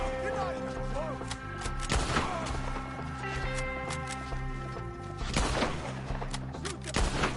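Rapid gunfire from a shootout in Red Dead Redemption 2, repeated shots and bursts cracking over a steady bed of game music, with loud volleys clustering around the middle and near the end.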